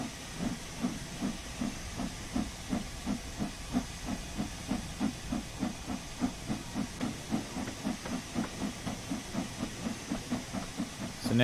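Steady hiss of a steam locomotive in Train Sim World 2, with a regular chuffing beat pulsing under it throughout, moderately quiet and with no talk.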